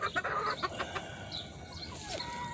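Gamefowl chickens cluck and murmur close by in a short, busy burst, with some rustling and a faint higher call near the end.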